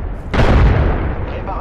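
A grenade blast in the video game Apex Legends goes off as a single loud, sudden boom, then trails into a rumbling decay over about a second.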